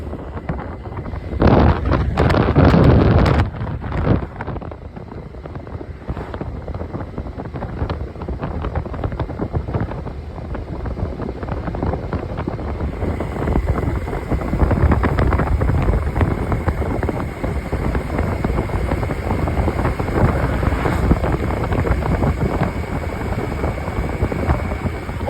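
A motorcycle cruising on Highway 145 in Colorado on a chilly 39-degree early morning, with strong, steady wind roar buffeting the microphone over the engine drone throughout, loud and continuous.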